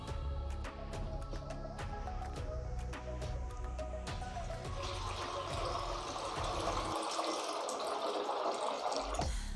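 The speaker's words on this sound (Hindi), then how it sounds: "फिर हम इसमें डालेंगे पानी," Water pours into a cooking pot of soaked lentils for daal, a steady splashing and filling sound that runs continuously, shifting in tone partway through as the pot fills.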